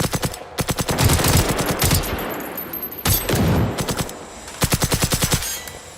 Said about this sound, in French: Oh, il tire fort.